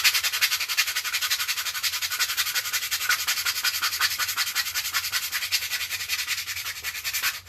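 A Nerf gun part is hand sanded in fast, even back-and-forth strokes, a close, steady rasping rub that runs throughout with no talking.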